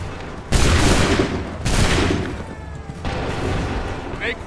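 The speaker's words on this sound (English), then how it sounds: "Open fire." Musket volleys in Assassin's Creed III, two loud, booming massed bursts of gunfire followed by a third, softer rolling volley, each decaying into a crackling rumble, with shouted orders around them.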